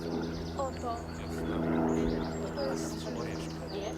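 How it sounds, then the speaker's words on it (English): A wren sings in a forest, its high, rapid twittering phrases scattered over a constant low hum with other faint bird calls in the background. "It is the wren."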